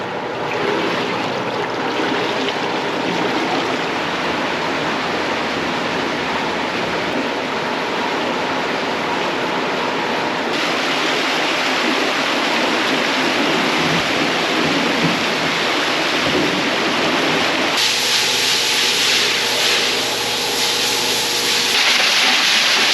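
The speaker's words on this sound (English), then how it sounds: "First, I'm gonna flush it, and then we are gonna fire hose it off." A dairy milking parlor floor being flushed and then sprayed with a fire hose: a loud, steady rushing of water that shifts in intensity twice, with no talk.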